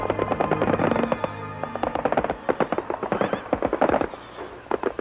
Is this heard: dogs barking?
no